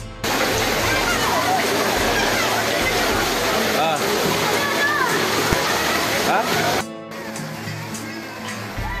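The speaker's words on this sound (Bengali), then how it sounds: "পাহাড়ের গা বেয়ে অঝোর ঝড়ে ঝরছে সেই ঝর্ণা" Waterfall at the Shivgadi shrine pouring down the hillside, a loud, steady roar of rushing and splashing water filling the scene, dropping to a softer wash near the end, with faint crowd voices beneath.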